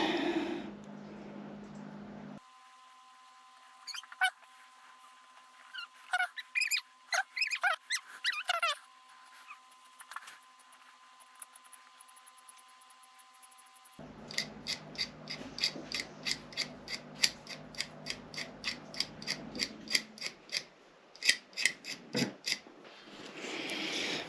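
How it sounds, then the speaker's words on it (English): A utility knife shaving a small part on a fishing rod while fitting a guide, producing repeated close scraping and squeaky rasping strokes in irregular bursts, with quiet gaps between. "So now I'm just going to take this utility knife, shave this just a little bit."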